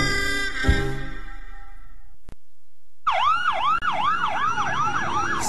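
Wailing emergency vehicle siren sweeping up and down in a steady repeating cycle, loud and close, sounding alone after a brief silence that follows a few seconds of unrelated audio.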